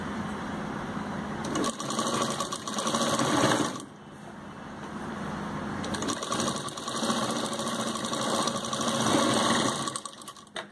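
Sewing machine stitching the shoulder seam of an umbrella kameez, a steady close mechanical whir with a brief pause near four seconds, then running again at an even pace with no talking.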